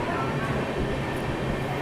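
From inside a general coach of the 20805 Andhra Pradesh Express passing Mathura Junction in the monsoon, a dense, even roar of wheels and carriage noise fills the space without letup.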